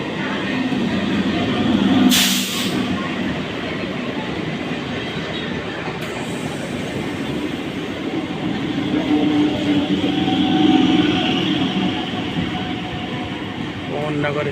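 A local train at an Indian railway station, bound for Howrah, rumbles steadily with wagon noise and a brief sharp hiss near the start, while station chatter and a voice carry on underneath.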